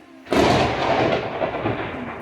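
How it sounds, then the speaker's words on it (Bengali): Thunder cracks suddenly during a heavy rainstorm, then a loud, broad rumble rolls on and slowly fades under the rain. "বাইরে কত জোরে বৃষ্টি হচ্ছে আর মেঘ ডাকছে"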